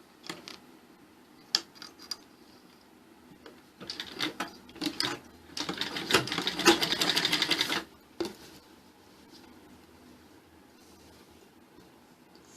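A sewing machine stitches a belt-style salwar in a few short bursts, then one longer steady run of rapid mechanical clatter, loud and close, with quiet pauses between the runs and no talking.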